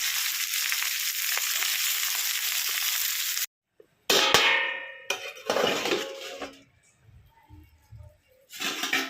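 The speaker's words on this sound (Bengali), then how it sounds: "তরকারিটা দেখুন ফুটে গেছে।" Curry of raw banana and hilsa fish with turmeric and salt bubbles and sizzles steadily in a pan for a few seconds, then breaks off into scattered utensil clatters and stirring noises.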